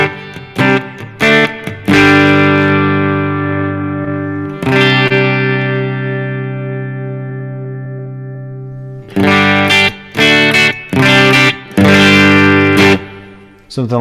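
Electric guitar played through an HX Stomp with a plate reverb, sustained chords ringing out in long smooth decaying tails between short choppy strums.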